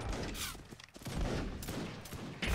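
Musket volleys crackle from a massed line battle in the multiplayer game Mount and Musket, dense overlapping shots rolling on with a sharp crack near the end, loud and busy with no talk over it.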